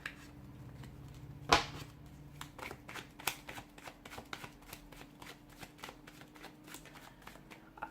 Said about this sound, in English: I've put those cards back in the deck